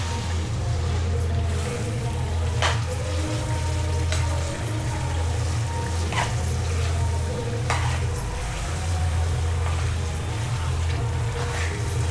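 Chicken biryani masala sizzles and fries in a pan over raised heat, a steady dense crackle with occasional sharp scrapes and knocks as it is stirred, continuous and close.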